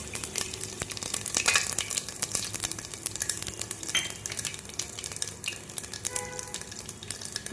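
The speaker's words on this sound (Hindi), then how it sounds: "गर्म है ना एकदम से, तो जीरा भी भुन गया बस" Cumin seeds roasting in hot ghee in a pan, a steady close sizzle and crackle running throughout with scattered sharp pops and a few faint utensil clinks.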